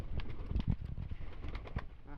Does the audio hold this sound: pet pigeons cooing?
yes